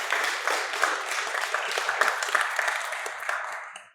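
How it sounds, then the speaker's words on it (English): Conference audience in Dubai clapping for a speaker, a loud, dense round of applause from a crowd that holds steady for several seconds before tapering off at the end. "You can clap for him."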